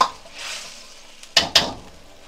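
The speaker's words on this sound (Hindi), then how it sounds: "एक बार हिला के देखते हैं ये कितना गाढ़ा होगा" Veg Manchurian gravy stirred in a pan, a soft wet swirling scrape followed by two sharp clinks of the spoon against the pan, close and alone.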